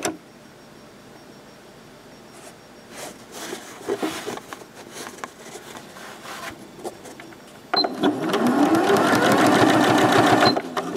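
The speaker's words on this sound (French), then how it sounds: "Et on va aller coudre les côtés," Sewing machine stitching the sides of a hot water bottle cover: faint clicks and handling at first, then a loud, rapid mechanical chatter of stitching that runs steadily close by to the end, with no talking over it.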